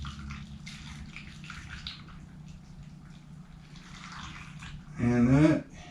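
Water pours over cut potatoes in a baking dish, a soft continuous splashing trickle that runs for several seconds before a person's voice briefly speaks near the end.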